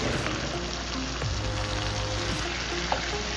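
Ground beef fries in a pan with onion and garlic, a steady close sizzle with occasional stirring clinks and scrapes, no voices.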